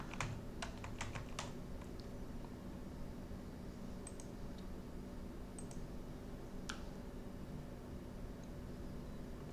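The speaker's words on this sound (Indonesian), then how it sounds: "kita ketik di sini." Keys tapped on a computer keyboard in irregular bursts of quick, light clicks, quiet and close, over a steady low electrical hum.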